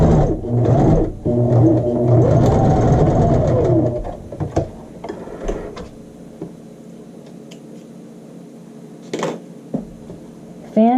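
A sewing machine runs a steady stitching whir as a child's shirt sleeve is seamed toward the side seam, loud at first, then stopping while quieter handling noises and brief clicks follow.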